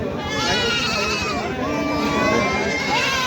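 Several goats bleat over one another at the Taherpur goat market in Bangladesh, loud and close, their wavering calls overlapping continuously against a busy crowd background.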